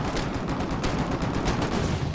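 Rapid bursts of distant gunfire and mortar thuds in the video game Foxhole roll continuously, a dense rumbling barrage with no voices.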